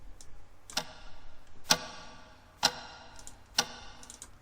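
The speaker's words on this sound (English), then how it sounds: "These are down here some clock effects" Simple clock-tick sound effect from an electronic music track, four sharp isolated ticks spaced about a second apart over a quiet background.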